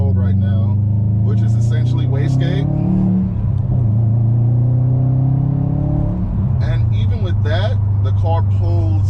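The engine of a 2021 Subaru WRX STI with a Stage 1 tune revs loud and close from the cabin as the car accelerates hard, its drone climbing in pitch, dropping at a gear change, then rising again.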